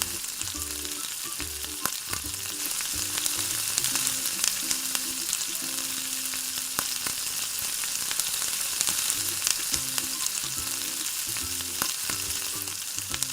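Marinated chicken pieces for biryani fry in hot oil with a continuous, crackling sizzle held at a steady level, close by and free of talk.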